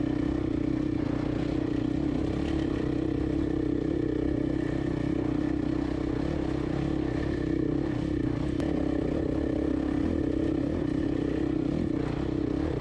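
Motorcycle ridden in second gear over loose, shifting riverbed rocks, a steady close engine drone with rattling clatter and scraping of stones under the tires throughout, no talk.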